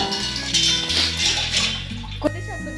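Water running steadily into a cooking pot for pasta, a continuous close splashing rush that holds throughout with a brief clunk near the end.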